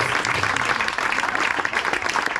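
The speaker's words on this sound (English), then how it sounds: "So please, round of applause for all of y'all for creating this." A crowd applauding steadily with dense, continuous clapping throughout, loud and fairly close.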